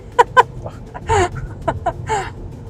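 A rooster near a road in Elvas, the Spanish border town, gives several loud clucks and short squawks in an irregular series, close by and with no one speaking over it.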